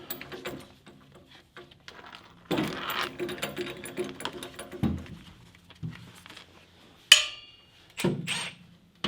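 A bolt is loosened on a Nissan Fairlady Z gas tank during tank removal, producing irregular metallic ratcheting clicks and clanks in short bursts, close by, with sharp knocks near the end.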